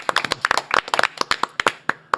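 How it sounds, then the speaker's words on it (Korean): A small audience claps to welcome a guest onto a talk show, a sparse run of about two dozen distinct, crisp hand claps, close and fairly loud, with no talk over them. "박수로 맞이합니다"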